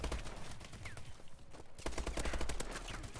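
Rapid bursts of automatic gunfire from Call of Duty: Advanced Warfare, dense crackling volleys with a brief lull midway before firing resumes heavier and louder.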